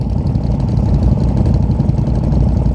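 Cammed Polaris Renegade XMR 1000R ATV engine running hard, a dense, loud, low mechanical roar with choppy pulsing, steady throughout and close by.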